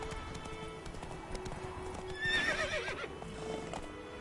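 Roach, Geralt's horse in The Witcher 3, trots with a steady clip-clop of hooves and briefly whinnies partway through, over quiet game ambience.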